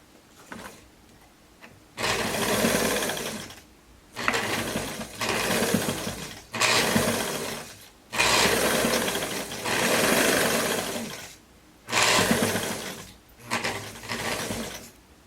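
A sewing machine stitching a jumpsuit with a buttonhole presser foot, running in loud close bursts of about one to two seconds separated by short pauses.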